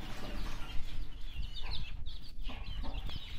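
A hen clucks among her chicks in a farmyard, soft busy clucking and faint high peeps mixed with scratching and rustle, close and steady throughout with no talk.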